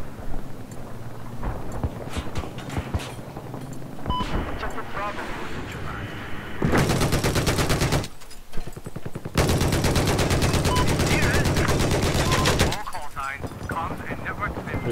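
Machine gun fire in the Battlefield 4 video game rattles in two long, loud sustained bursts with other gunshots, battle noise and talk around them.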